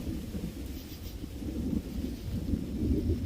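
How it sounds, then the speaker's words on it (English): Heavy rain pounding steadily on a car during a severe thunderstorm, with a continuous deep rumbling roar that swells gradually louder, thunder rolling beneath the drumming downpour. "here comes the rain again"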